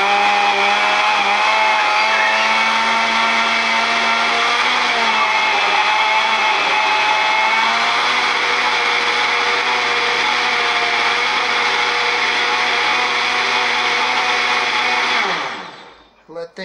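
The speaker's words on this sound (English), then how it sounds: "This is a cheap crap blender, and it liquefies things nicely" A cheap countertop blender liquefies green smoothie ingredients, a loud, steady, close-up motor roar lasting about fifteen seconds before it winds down and stops.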